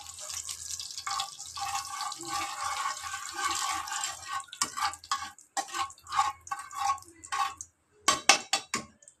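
Cumin seeds frying in a pan, crackling and sizzling steadily at first, then breaking into scattered bursts of spitting and popping with brief quiet gaps, close and moderately loud.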